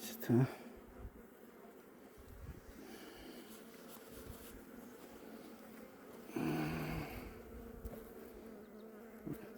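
Honeybees buzz inside a hive during a late-autumn inspection at 1,050 metres altitude, a steady close hum that swells briefly near the start and again in a louder stretch partway through.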